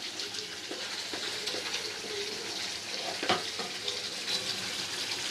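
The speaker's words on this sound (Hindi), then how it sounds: "ये देखिए चिकन की ग्रेवी अच्छे से पक रही, वाइट चिकन की ग्रेवी" White chicken gravy bubbling over a full flame, a steady close sizzle and simmer with small pops and stirring clinks throughout, no voices.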